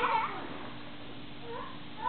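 A kitten meows in short, soft calls while playing, a faint mew at the start and another near the end over low room noise.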